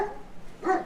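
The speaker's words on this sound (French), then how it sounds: "Le voisin et son chien" A neighbour's dog barks outdoors in a coastal town, one loud, close bark standing out after a stretch of quieter background noise.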